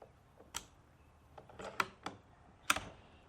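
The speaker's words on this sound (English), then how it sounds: "That click was the lifter dropping." A rifle's magazine lifter drops with a sharp mechanical click, one of several faint, scattered metallic clicks and taps heard close up in an otherwise quiet room.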